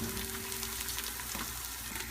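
Whole peeled Italian tomatoes stirred into a pot of meatball sauce give a steady, soft bubbling sizzle with faint stirring scrapes, close and continuous with no talking.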